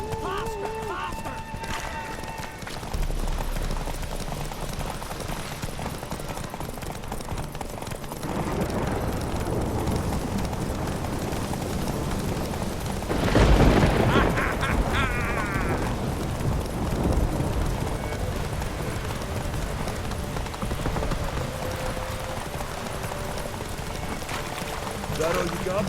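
Horses gallop with a steady clip-clop in a Witcher 3 race on Skellige, hoofbeats running under game voices and music, swelling louder around the middle.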